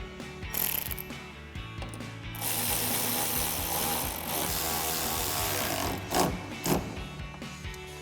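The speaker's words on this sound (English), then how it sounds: "we're going to tighten both of these up with a 10mm socket" A hand ratchet with a 10mm socket tightens headlight mounting bolts on a 2009-2018 RAM 1500, giving quick close metallic clicking in short bursts, then a steadier run of clicks.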